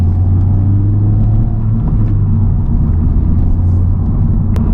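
A Honda Civic Type R pulls away in Bay Area traffic, its engine a loud, steady low rumble heard from inside the cabin, with a brief whirring rise near the end and no talking.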